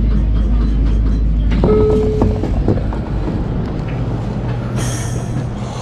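A train arriving at a station platform in Kumamoto: a loud rumble and clatter of rolling wheels with brief tonal squeals, easing into a lower steady hum, then a hiss near the end.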